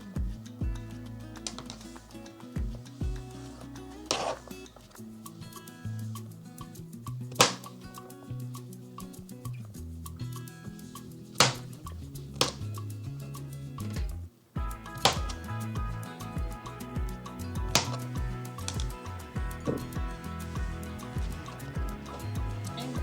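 Knife cutting zucchini into half-moon slices on a cutting board, a steady series of close, crisp chops and taps in irregular rhythm with no talking.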